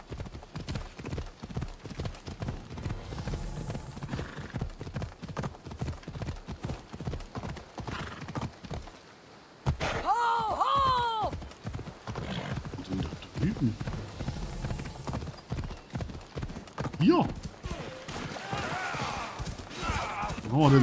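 A horse gallops in Assassin's Creed Odyssey, with rapid rhythmic hoofbeats running throughout, a whinny partway through, and someone talking over the game sounds.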